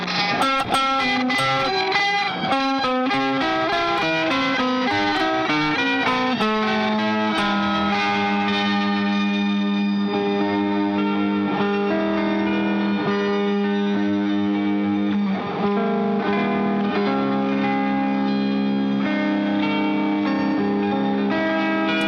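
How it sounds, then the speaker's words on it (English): Old Blood Noise Excess V2 pedal on electric guitar with the tone rolled down, giving a dark, dense distortion with repeating fifth-interval echoes stacked on top, sustained and loud throughout with ringing decays. "That dark distortion with those fifth repeats way on top of it."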